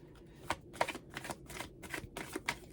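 Tarot cards being shuffled and pulled, a series of soft, papery riffles and flicks in irregular bursts, close and quiet, with no talking.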